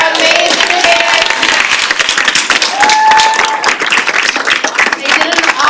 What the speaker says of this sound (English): Let's give one last round of applause for our amazing debaters.